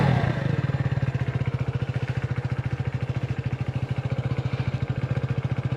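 Engine of a 150 cc motorcycle starting on the ignition button and then idling with a steady, rapid, close-up putter, loud and alone.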